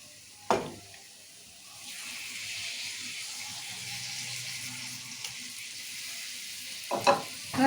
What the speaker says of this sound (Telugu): ఇప్పుడు ఈ మెదడు వేసుకుందాము.